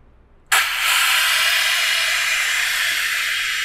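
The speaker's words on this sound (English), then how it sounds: "We'll let that air fully bleed out there." Compressed air bursts out of an edge polisher machine with a sudden onset, then settles into a steady, loud, broadband hiss that continues unbroken to the end, with no talking.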